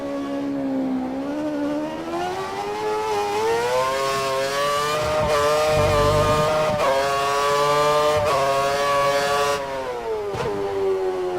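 An F1 race car engine in the video game F1 2013 screams at high revs, its pitch rising and falling through gear changes and corners, loud and continuous with brief dips between shifts.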